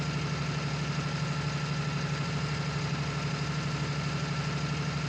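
A T7 tractor engine in Farming Simulator 19 runs steadily at a low, even drone with a constant rhythmic throb, close and unbroken, with no voices.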